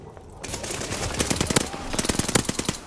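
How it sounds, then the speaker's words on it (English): Automatic gunfire in Call of Duty Vanguard multiplayer, with rapid bursts of shots that grow denser and louder toward the end over a steady game background. "I shot you through the enemy"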